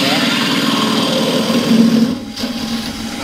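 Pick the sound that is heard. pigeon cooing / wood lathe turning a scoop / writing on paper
wood lathe turning a scoop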